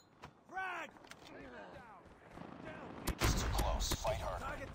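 A frag grenade bursts in Call of Duty Mobile, a loud boom about three seconds in among game voice callouts and gunfire, with the rumble carrying on afterward.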